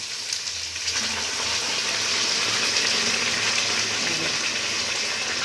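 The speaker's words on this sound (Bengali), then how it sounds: "এবার আমরা একটু যে গরম জলটা দিয়ে দেবো" Hot water pours into spiced chicken curry in a pan, a continuous rushing gush with a bubbling hiss that holds steady and close for several seconds.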